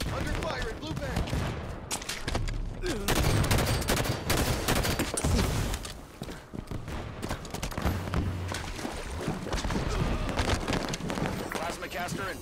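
Rapid gunfire bursts and explosions in a Halo 5 multiplayer match, dense and loud throughout, with in-game announcer voice lines layered over the shooting.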